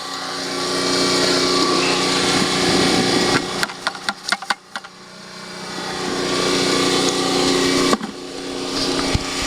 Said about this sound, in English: Hope you can hear me over that sound of that generator.